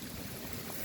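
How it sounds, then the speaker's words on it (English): Water draining out of an old wringer washing machine once the stopper is pulled, a faint, steady rushing trickle heard briefly and close by. "pull out the plug, pull the stopper out. and it'll start draining"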